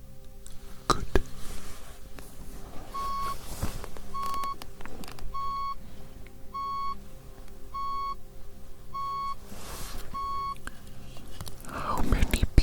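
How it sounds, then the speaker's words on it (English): Six or seven short, identical pure-tone beeps from a hearing-test role-play sound at a steady rhythm about a second apart. Quiet whispering and soft close-up rustles surround them. "How many beeps was that?"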